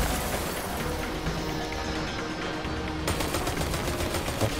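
Sustained gunfire in Destiny 2 during a Warmind strike, a dense rapid stream of shots running unbroken throughout, loud and close, with no talking.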